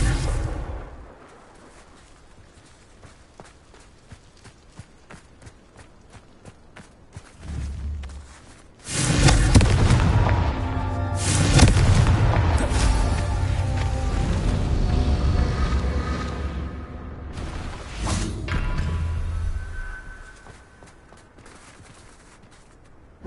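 Confringo blasting spells set off explosions in the Hogwarts Legacy game. A loud burst of booming blasts and crackling debris lasts several seconds after quieter ambient game sounds, then fades back to calm.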